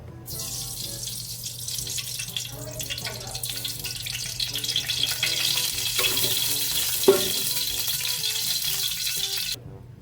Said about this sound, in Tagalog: pag mahigit na yung ating gawali ay maglagay na po tayo ng mantika.